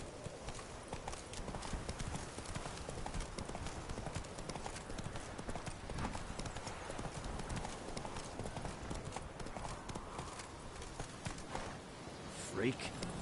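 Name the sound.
horse Roach galloping, hooves clip-clopping, in The Witcher 3 video game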